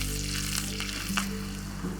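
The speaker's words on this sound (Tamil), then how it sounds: "கொஞ்சம் கருவேப்பிலை வந்து கொஞ்சம் நல்லா மொறுமொறுன்னு வர்ற அளவுக்கு நல்லா இந்த பட்டர்லேயே வந்து ஃப்ரை பண்ணிக்கிடுவோம்" Cumin, green chili and curry leaves frying in butter until crisp give a steady close sizzle, with a low hum underneath and a few sharp clinks of a spoon against the pan near the end.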